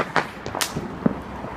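Bonfire night fireworks burst overhead in a quick series of sharp cracks and pops of varying loudness, some distant and some closer, with no talk during the bursts.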